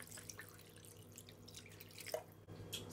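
Water is added to a pot of seasoned meat for ayamase, heard as faint, sparse drips and small splashes against a quiet background, with a brief sharper splash near the middle.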